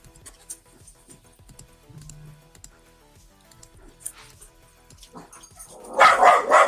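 A dog barks in a quick burst of loud, close yaps near the end, after a quiet stretch of faint room sounds and light handling noise.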